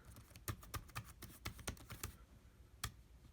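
Typing on a replaced keyboard of an Apple MacBook Pro A1398 laptop: a quick run of sharp, close key clicks in an uneven rhythm, then a pause and one last louder tap, with no voices.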